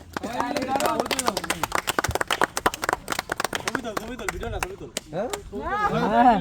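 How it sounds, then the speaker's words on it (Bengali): Scattered clapping at a cricket tournament prize ceremony, sharp hand claps popping out repeatedly beneath steady talking from people nearby. "হাততালি দে"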